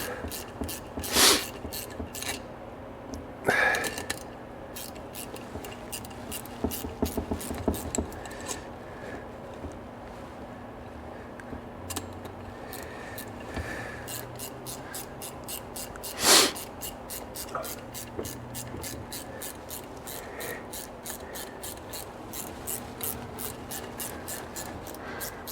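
A ratchet tightens a bolt to pull a cylinder sleeve out of a Bennche UTV engine during a teardown: quiet rubbing and metal handling, then a run of fast, evenly spaced ratchet clicks, close by with no talking.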